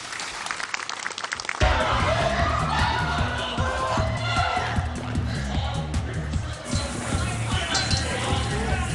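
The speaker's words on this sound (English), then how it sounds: "How about a huge round of applause for our two pilots?" Audience at a Warner Bros. Movie World stunt show bursts into loud, sustained applause and cheering for the two pilots, the clapping beginning abruptly and continuing steadily throughout.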